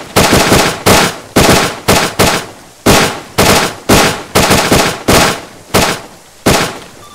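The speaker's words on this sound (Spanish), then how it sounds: "Charlie, estamos en fuego de supresión para darles apoyo." Suppressive machine-gun fire in the military game Arma 3 comes in loud, close bursts, about a dozen short volleys of rapid shots with brief gaps between them.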